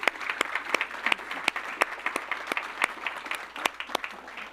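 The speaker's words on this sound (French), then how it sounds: "Est-ce qu'on peut applaudir la louange de ce matin?" Church congregation applauding after morning worship, a fairly quiet round of clapping with distinct sharp claps landing in a loose rhythm over a soft bed of hands.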